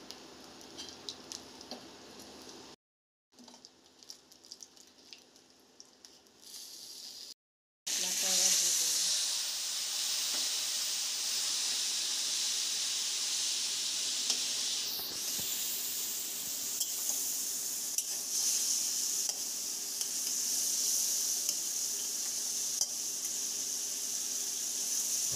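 Cumin seeds and a dried red chilli hit hot oil with a loud, steady sizzle and hiss. After a few quiet gaps it swells into continuous frying that stays strong to the end, with occasional clinks of a spoon against the pan.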